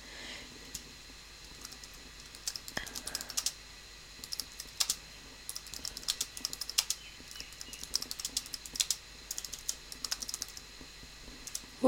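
Rapid, uneven keystrokes on a computer keyboard while code comments are typed, clattering up close in bursts with short pauses, with no talking.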